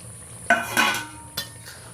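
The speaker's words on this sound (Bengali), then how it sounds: "হালকাভাবে একটু নেড়ে নিলাম" Fried small puti fish are stirred into a simmering spicy jhal chorchori curry in a pan: a few close metallic scrapes and clinks of a spoon against the pan over a faint low bubbling, with no talking.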